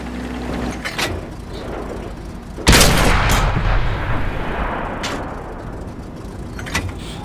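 Tank cannon fire in the video game World of Tanks: one loud, sharp blast booms out partway through over a steady rumbling engine background, followed by a long decaying roar and a few fainter distant shots.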